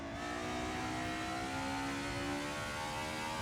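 Mercedes 190 EVO II DTM race car engine in a racing sim game, revving steadily at high pitch with a sustained whirring drone throughout, loud and close with no talk.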